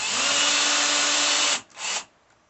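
A power drill whirs loudly at steady speed, stops, then gives one brief final spin before falling quiet.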